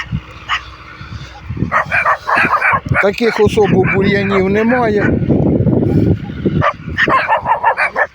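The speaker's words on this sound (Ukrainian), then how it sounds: "Собаки збіглися." Several dogs bark and yip close by in a farm field during cultivation work with an MTZ-82 tractor, sharp repeated barks mixed with whimpers while someone talks.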